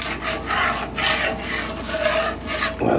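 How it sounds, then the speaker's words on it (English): A utensil scrapes stuck liver-fortified chili beans off the bottom of a cooking pan, producing continuous close rasping strokes that rise and fall in rough rhythm for about three seconds, with no talk. "Help scrape with the weight and move it around."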